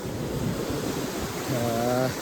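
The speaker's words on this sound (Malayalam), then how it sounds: "ഇവിടെ നല്ല തിരയുണ്ട്" Sea waves surging on a Lakshadweep beach, a steady close roar of surf mixed with wind buffeting the microphone, with a brief tonal hum near the end.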